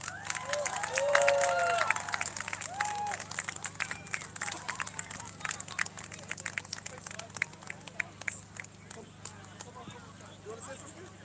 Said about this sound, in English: can you give a massive round of applause to Sarah Chowdhury?